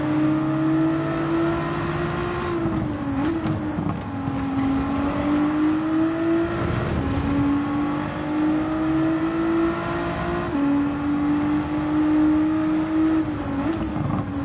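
A GT4 race car engine heard onboard at Brands Hatch in a racing video game, droning loudly and continuously with pitch rising and falling through upshifts and corners, and no voices.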